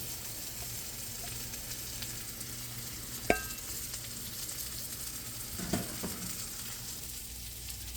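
A street-cart style chicken bowl mixture is stirred in a hot pan, with a steady sizzle of frying throughout, broken by a sharp utensil clink and a softer scrape a few seconds later.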